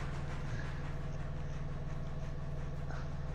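A steam mogul locomotive hauling a train in Railroader chuffs and rumbles steadily, a dense low rhythmic pulse with a humming tone over it, continuous and close, with no talking.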